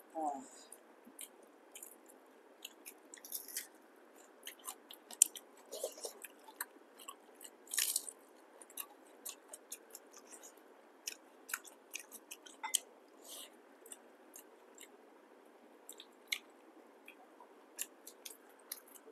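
Close, quiet chewing of small fish with soaked fermented rice (panta bhat) at a meal. Soft wet squishes come with small crunchy clicks at irregular intervals.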